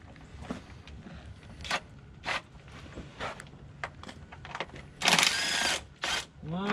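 An 8 mm swivel socket turning bolts during a gauge install on a 2020 Polaris RZR XP Turbo, quick clicking ratchet bursts and brief mechanical rattles close by, with a longer buzzing run near the end.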